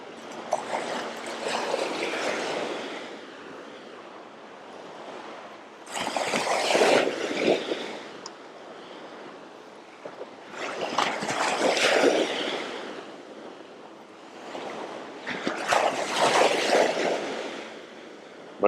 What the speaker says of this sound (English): Waves are definitely crashing